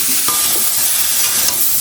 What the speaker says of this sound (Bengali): সবজির সঙ্গে চিংড়ি মাছ মাছটাকে একটু ভেজে নেবো